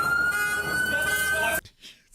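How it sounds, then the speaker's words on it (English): A steady, high-pitched police car siren wails loudly for about a second and a half, then cuts off abruptly, leaving near silence. "It's the suspect car siren."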